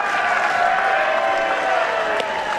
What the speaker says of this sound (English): Did you hear what the fans were cheering to him?